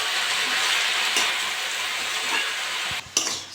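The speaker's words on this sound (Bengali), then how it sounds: "শাকগুলো দিয়ে নেড়ে চেড়ে নেবো" Red amaranth greens and potatoes sizzle steadily in a hot pan, a dense continuous frying hiss with a few scraping stirs and a brief dip near the end, no voices.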